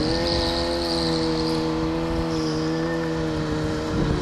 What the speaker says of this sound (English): the reason why he's higher RPMs is because that's a race compound tire